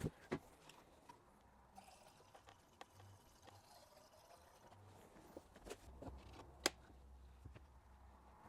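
Coolant and water trickling into the cooling system of a Land Rover Discovery 2, a faint, quiet liquid gurgle with a few small clicks and drips in a calm setting.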